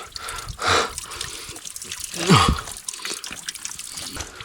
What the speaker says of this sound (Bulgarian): Ма тук има сериозна река, бе.